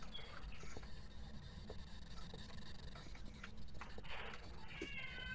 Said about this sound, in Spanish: La gata, ¿no escuchaste?